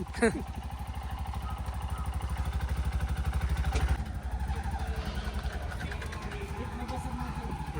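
Motorcycle rickshaw engine chugging nearby in a steady rhythm, building slightly before easing back to a lower idle, with voices faintly present beneath it.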